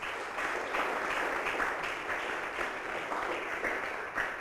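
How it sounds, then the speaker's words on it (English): An audience applauds both teams at a school debate in Jamaica, steady broadband clapping that fills the whole stretch without pause. "I want you to give both teams a round of applause."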